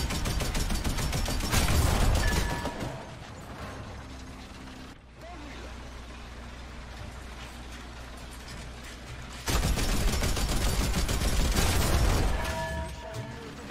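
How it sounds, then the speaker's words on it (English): A 20 mm cannon fires in War Thunder during a tank test drive, with two loud bursts of rapid, rattling shots at the start and end and a lower mechanical engine rumble between them. "let's just see what that old 20 mil cannon sounds like with the new sounds"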